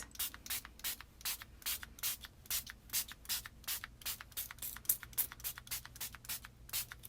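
A spray bottle of hybrid ink is pumped repeatedly over paper, giving a fast, even train of sharp hissing spritzes, close and fairly loud with no one speaking.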